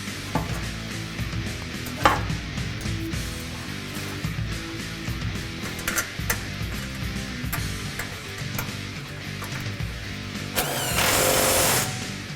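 Crossmember bolts on a 2011 Ford F-150 with a 3.5L EcoBoost are run down with a power tool in short bursts and rattling clicks, ending in one longer sustained whine, with shop clatter between.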